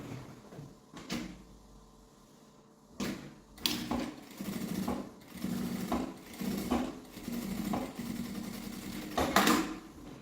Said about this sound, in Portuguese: E vou passar a costura aqui, pode ser uma costura de meio pé de máquina, ó. Vou costurar ela assim.